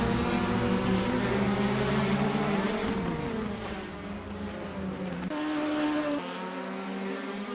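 Caterham 420R race cars at Cadwell Park, engines droning loud and close with shifting pitch as cars accelerate and change gear, several engine notes overlapping in a continuous roar throughout.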